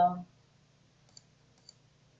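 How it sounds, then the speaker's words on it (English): Two faint, crisp keyboard clicks of an Alt key being pressed, spaced about half a second apart in a quiet room, following a brief burst of speech at the start. "you just click on Alt button from the keyboard"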